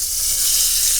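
Steak sizzles in a hot pan, a steady bright hiss of frying that stays constant and close, with no talking over it.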